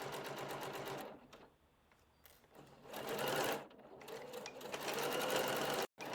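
A sewing machine stitches a skirt seam in short, close runs, its rapid mechanical whirr stopping and starting several times with quiet pauses between bursts.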